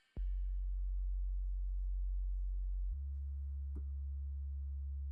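Sub bass from the Monarch synth plugin on its Define Square preset, with a touch of OTT compression, plays two long, pure, deep sustained notes in turn, clean and alone with no talking.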